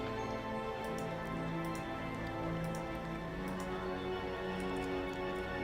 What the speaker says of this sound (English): And it's raining in my